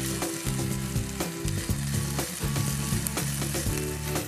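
Chicken frying in a pan sizzles loudly and steadily from up close, a dense crackling hiss with small pops and stirring noises and no talk over it.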